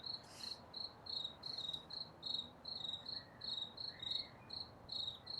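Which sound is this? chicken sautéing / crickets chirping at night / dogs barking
crickets chirping at night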